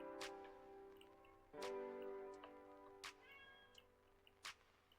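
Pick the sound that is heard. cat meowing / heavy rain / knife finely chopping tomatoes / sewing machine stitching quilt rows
cat meowing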